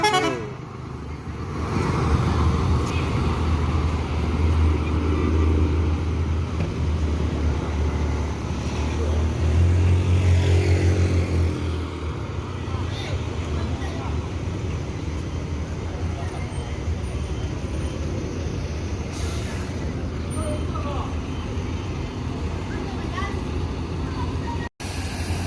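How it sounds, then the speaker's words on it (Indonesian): A large bus rumbles and idles nearby amid traffic noise at Terminal Baru Solo bus terminal, with a horn tooting and engine sounds shifting as it pulls in. "Big Bus masuk juga ke dalam Terminal Baru Solo"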